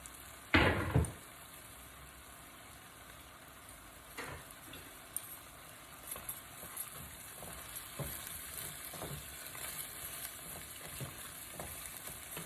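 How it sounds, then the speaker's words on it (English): Vegetables for fajitas cooking down in a pan, a steady soft sizzle with occasional faint ticks and stirring clicks, after one sharp clatter near the start, with no voices. "we're just going to let these vegetables cook down"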